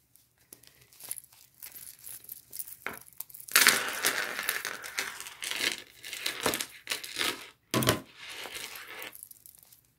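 A sewn fabric pouch for a necklace is turned right side out by hand, producing close rustling, crinkling and soft scrunching bursts of cloth with brief pauses between.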